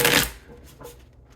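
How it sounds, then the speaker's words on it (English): A quick burst of tarot cards being shuffled, loud and close, followed by a few softer riffles and rustles. "Let's do one more shuffle."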